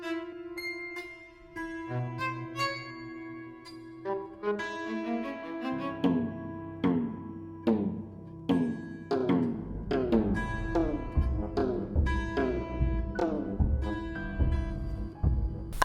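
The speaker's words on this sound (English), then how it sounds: "that's me plucking the strings in a grand piano" Strings inside a grand piano are plucked by hand, giving bright, ringing pings that pile up over sustained resonance, with a dense low wash building in the second half of the passage, up close and without speech.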